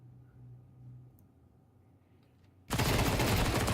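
MP9 submachine gun fire in a Counter-Strike match: after quiet low ambience, a dense, loud burst of rapid automatic fire suddenly starts and keeps going to the end.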